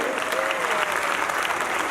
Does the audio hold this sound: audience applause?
yes